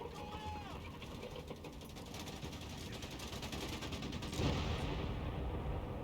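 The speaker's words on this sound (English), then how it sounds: "Fire the canister shell." A canister shell fired in the World War II strategy game Company of Heroes 3, Italian campaign: a long, dense rattling blast of scattered shot and gunfire that swells into a heavier burst near the end, with a voice talking over it.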